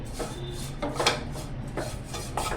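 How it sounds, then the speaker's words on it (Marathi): Dried coconut roasting in a pan is stirred continuously for green moong laddu, a close, rhythmic raspy scraping of a spatula through dry shreds, several strokes in quick succession with no talking. "सुकं खोबरं पण सतत असं ना ढवळत राहायचं आहे"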